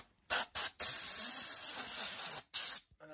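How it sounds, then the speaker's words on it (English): A can of electronic duster blows compressed air to clean out a SubDrive75 pump controller, with two short bursts, a long steady hiss of about a second and a half, then another short burst, all close and fairly quiet. "I did purchase a can of electronic duster because it is a heat issue"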